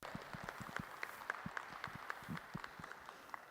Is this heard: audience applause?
yes